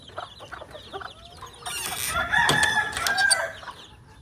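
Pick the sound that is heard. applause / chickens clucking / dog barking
chickens clucking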